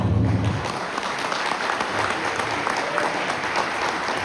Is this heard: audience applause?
yes